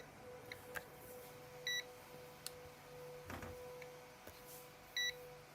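A multimeter emits short electronic beeps while a GTX 960 graphics card is being probed, two distinct brief tones several seconds apart, faint and close, alongside soft clicks and handling noise.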